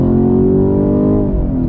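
A 2021 Chevrolet Camaro LT1 V8 revs loudly and continuously right after a downshift to second gear, its deep engine note close and sustained with smoothly shifting pitch and no voices.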